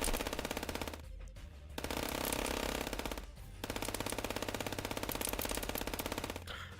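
Rapid, sustained automatic gunfire from a video game plays in dense continuous bursts with two brief pauses, loud and steady throughout with no talk over it.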